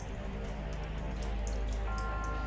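Water droplets falling and pattering inside a house with no rain outside, a steady crackling patter of drips over a loud low background rumble.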